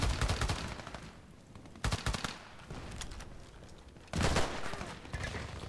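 A UMP45 submachine gun fires in a shooter game in short, sharp bursts of rapid shots, with clusters of reports separated by brief pauses and quieter background between volleys.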